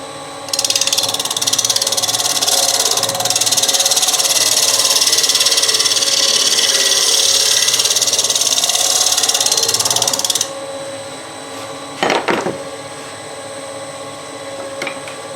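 A gouge cuts steadily against a spinning wooden bowl on a wood lathe, truing up the rim in a loud, continuous hiss for about ten seconds. It then stops, leaving the lathe's lower hum and a brief knock.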